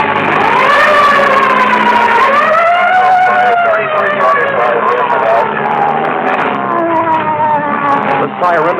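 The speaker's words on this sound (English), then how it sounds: "The siren of number 66 pierces and shatters the thought processes." A loud wailing siren of Chicago fire engine 66 rises and falls continuously, close and dominant, with engine rumble underneath.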